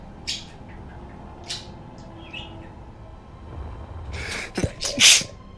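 Several sharp sneezes from a person, the first ones lighter and spaced out, then a louder burst of close sneezes toward the end, over quiet background noise.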